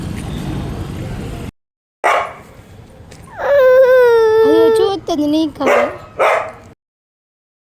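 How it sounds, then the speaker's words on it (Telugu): A voice speaks, then a high whining, yelping dog sound rises, followed by a few short barks and yips at close range. "అక్కడ ఒక కుక్క ఉంది దాన్ని చూసి భయపడుతుంది"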